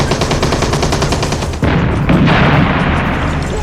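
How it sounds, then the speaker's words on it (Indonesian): Repeated gunfire in a Soviet-army war film battle scene, with dense rapid machine-gun bursts and booming heavier shots rolling continuously at high volume, with no voices over them. "Tembakan demi tembakan terus diluncurkan."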